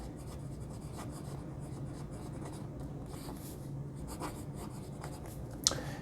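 A Zizai resin fountain pen with a Schmidt fine nib writes on paper, giving soft, close, continuous scratching strokes with brief pauses and a small tap near the end.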